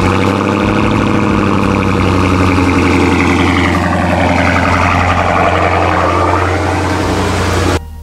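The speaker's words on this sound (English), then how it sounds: "So let's do a cold start in the charger" A 2012 Dodge Charger cranks on a cold start and settles into a loud, close, droning idle that holds steady before cutting off abruptly near the end.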